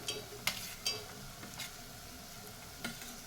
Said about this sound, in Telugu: ఇందులోనే బీట్రూట్ కూడా వేసి మొత్తం కలిసేలా కలుపుకుందాం